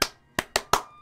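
Clapping in the video game Dragon Quest XI S: five crisp, separate hand claps at an uneven pace, close and sharp, with no voices.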